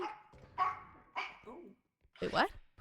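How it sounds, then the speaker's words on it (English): A dog barks in the background in a few separate sharp yips spaced through the moment, mixed with a person's voice speaking close up. "Who's barking? Probably a dog."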